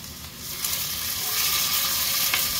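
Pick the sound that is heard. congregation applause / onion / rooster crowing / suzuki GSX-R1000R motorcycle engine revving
onion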